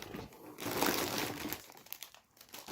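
Lulu Puffs snack bags crinkling and rustling as they are pulled out of a box, a continuous close plastic crackle that fades briefly and then rises again.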